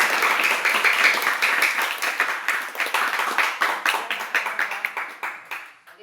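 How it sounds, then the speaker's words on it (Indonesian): A room of seventh-grade madrasah pupils claps together at the end of a school lesson. The clapping is lively and fairly close, with a clear slap rhythm that thins out and tapers off toward the end. "Oke, tepuk tangan untuk kita semua."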